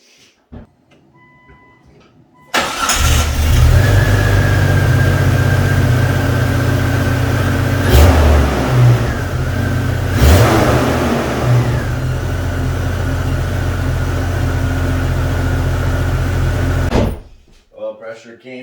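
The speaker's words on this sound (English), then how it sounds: "Let's start it up in this garage. That's gonna sound great." A freshly installed car engine in a home garage cranks and fires at about 2.5 s, then holds a loud, steady idle with two brief blips of revving before shutting off near 17 s.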